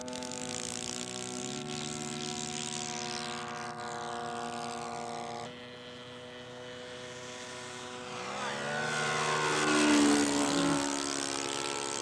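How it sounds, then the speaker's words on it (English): A radio-controlled scale BE2E model airplane comes in to land, its buzzing propeller engine droning steadily, easing off briefly, then swelling louder as it passes near. "Jerry Nelson's going to show me a perfect landing with my BE2E"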